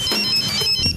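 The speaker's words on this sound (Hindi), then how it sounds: "जरा भानु के नंबर पर फोन लगाओ।" A phone ringtone chimes steadily for about a second while a call is placed to someone's number, with no voices over it.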